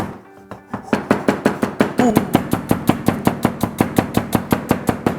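A knife finely chops onion on a sturdy cutting board, a fast, even run of sharp close knocks, about four per second, after a brief quiet start.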